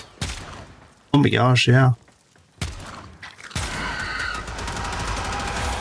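Bursts of Dual Toxocyst gunfire in the Warframe video game, fired while testing a Riven mod in a simulation room, with broadband sustained shooting at the end and a speaking voice breaking in partway through.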